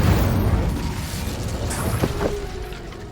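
A fire spell cast in Hogwarts Legacy: a low, rumbling whoosh and boom of flames that swells and fades over a few seconds, with brief crackling bursts near the end.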